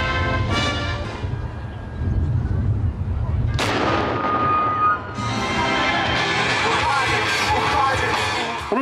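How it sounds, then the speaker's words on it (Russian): A ceremonial cannon shot fired at the Naryshkin Bastion of the Peter and Paul Fortress during a send-off ceremony, one sharp loud blast amid steady crowd and outdoor noise, followed by a long rumbling tail. "пушечный выстрел"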